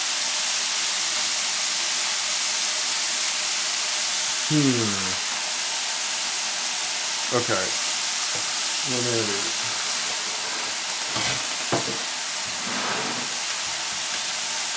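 Bacon frying in a pan gives a steady, loud, hissing sizzle that runs the whole time, while a person talks briefly over it in short phrases.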